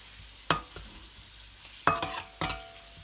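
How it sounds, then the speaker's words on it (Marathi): Spice masala frying in oil for Maharashtrian stuffed brinjal, stirred with a spoon: three brief scraping strokes stand out over a faint, steady sizzle, with quiet gaps between them. "तर तो तेलात मसाला टाकला आपण, चांगला तो परतवून घ्यायचा।"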